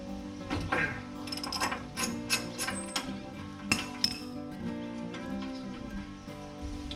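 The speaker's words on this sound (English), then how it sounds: "next we're gonna free up the upper ball joint nut." A ratchet wrench loosens the upper ball joint nut on a car's control arm, giving rapid clicking pawl bursts in several runs close to the mic, with metallic clinks between them and no talking.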